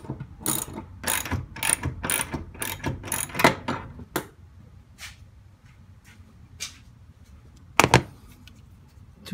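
A ratchet wrench removes Torx bolts from a seat in a Ford E350 van with bursts of rapid clicking close up, then a quieter stretch with scattered clicks and a final short burst.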